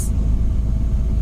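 Bus driving through a dark forest at night, a loud steady low engine rumble heard briefly and continuously.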